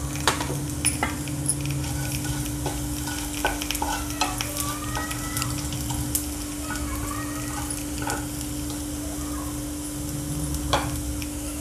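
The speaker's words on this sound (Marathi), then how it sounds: "आणि आता 1 विलायची, दालचिनी, लवंग आणि 2 मिरे ते भाजून घेऊ।" Whole cardamom, cinnamon, cloves and peppercorns dry-roasting in a pan give a soft sizzle with scattered sharp ticks and scraping stir sounds, fairly quiet over a steady low hum; no voices.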